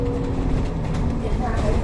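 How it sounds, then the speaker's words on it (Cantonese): A sixth-generation retro tram running through Hong Kong gives a close, rumbling, rattling roll under excited talk throughout. "哦，復古電車。"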